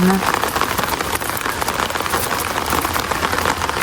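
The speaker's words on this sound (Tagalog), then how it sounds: "Grabe po, umulan ah." Rain falls steadily and loudly on a surface nearby, a dense continuous patter throughout, with people talking over it.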